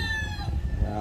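Chickens and a rooster kept by a hobby breeder, heard close in the yard as brief clucking and calls mixed with a low background murmur.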